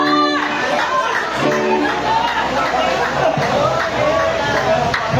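A crowd of fans screams and cheers at a tribute performance, a loud, steady wall of high voices with a person speaking over it.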